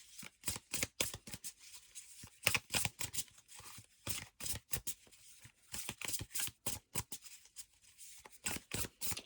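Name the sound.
shuffling thick oracle cards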